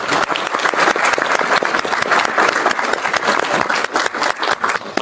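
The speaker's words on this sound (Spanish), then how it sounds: "por favor, un fuerte aplauso para ellos" Enthusiastic audience applause for the speakers at a criminal law congress, a dense, loud stretch of rapid clapping from many hands that holds steady throughout.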